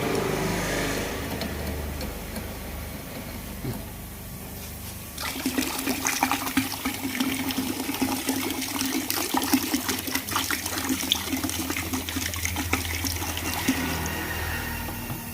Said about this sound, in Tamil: ஒரு ப்ரெஸ் பண்ணிங்கன்னா ஒரு லிட்டர் ஃபில் ஆக ஆரம்பிக்கும்